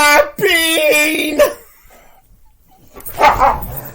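Dogs bark and yip loudly and close by in a couple of short bursts, with a gap between them.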